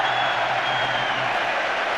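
Stadium crowd at a 1999 Leeds versus Wigan rugby league match applauding in a steady, dense wash of clapping and broadband crowd noise, sustained throughout at a distance.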